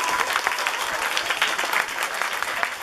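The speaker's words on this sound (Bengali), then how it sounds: "একবার সবাই দাঁড়িয়ে হাততালি হয়ে যায়" An audience at a Pujo committee stage performance gives a standing ovation, a dense steady wash of many hands clapping together at moderate loudness throughout, with no talk over it.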